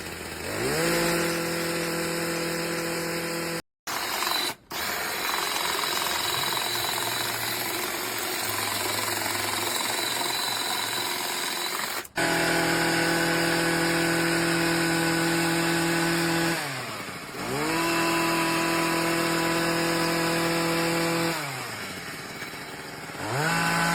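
Petrol solo by AL-KO 163-70 hedge trimmer engine runs close and loud, buzzing steadily then revving higher several times as the throttle opens, with brief cut-outs between runs.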